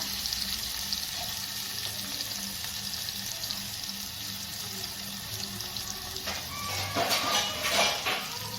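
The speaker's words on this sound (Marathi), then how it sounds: "त्यामध्ये मी आता कांदा घालत आहे" Chopped onion frying in oil seasoned with a quarter teaspoon of asafoetida, a steady soft sizzle throughout that swells louder and brighter near the end as the pieces are stirred in the pan.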